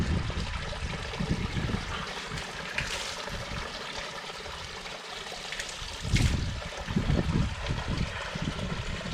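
Cold, clean spring water trickling out from under a rock near Chithradurga Fort, a steady close burble with brief louder gushes, no talking.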